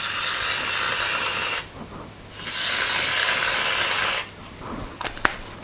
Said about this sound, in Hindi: स्प्रे क्रीम आपको रेडीमेड मिल जाती है, उसके साथ में आप इस पर स्प्रे करते हैं।